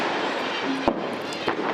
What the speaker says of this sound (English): You may be able to hear some of the fireworks going off right now.